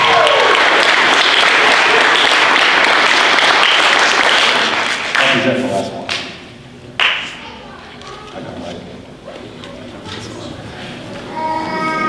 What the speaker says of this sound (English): Please give them all a big round of applause.